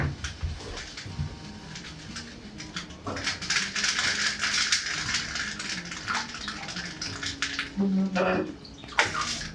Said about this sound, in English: after you've chopped the figs and you're filling up the water